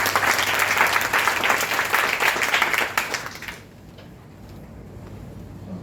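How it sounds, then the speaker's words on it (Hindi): An audience at a Hindi Day inauguration ceremony at a college in Nanded breaks into loud, dense applause that carries for about three and a half seconds before cutting off into a quiet room with a low hum. "आपकी जोरदार तालियां होनी चाहिए।"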